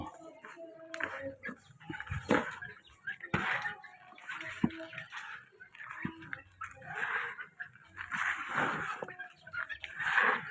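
Chickens on a farm, a flock of about 28 birds, cluck and squawk in irregular bursts at close range, with scattered calls and quiet gaps between them.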